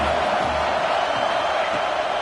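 A college football stadium crowd roars in a steady, dense wall of cheering and noise, loud and unbroken throughout the short stretch.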